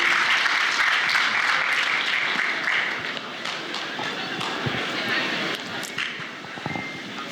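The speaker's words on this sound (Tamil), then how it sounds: "உங்கள் கரகோஷம் அவர்களுக்கு நிச்சயம் தேவை" Audience applause at a Tamil Heritage Month celebration, a dense, steady wash of many hands clapping that fills the space and eases slightly toward the end, with voices mixed in.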